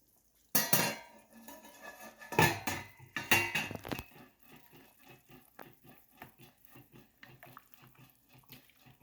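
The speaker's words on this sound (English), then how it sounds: "I'm going to take the lid off and show you what it looks like and give it a stir." A metal lid comes off a simmering soup pot with a couple of loud clanks, then a spoon stirs through the liquid in a quick run of light clinks and sloshes that fade softer toward the end.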